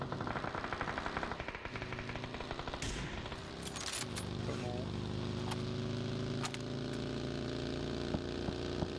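Gunfire in the battle royale video game PUBG, bursts of distant automatic fire and scattered single shots over constant engine drone, with sharp cracks near the end.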